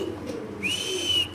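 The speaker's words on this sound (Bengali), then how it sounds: "তো দর্শক আমরা একটু কবুতরের ডাকটা ইনশাআল্লাহ দেখা দিচ্ছি" A pigeon coos softly at a pigeon farm, with a low call and then a rising, sustained whistle-like tone, faint and close, against quiet background.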